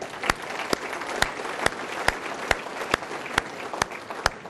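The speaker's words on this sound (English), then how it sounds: "So give yourselves a round of applause" An audience at a State of the City address claps steadily for several seconds, with the applause sounding near and even and sharp individual claps standing out at regular intervals.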